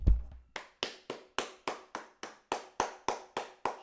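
About a dozen slow, evenly spaced hand claps from one or two people, close and crisp, with a brief thud at the start and no talking.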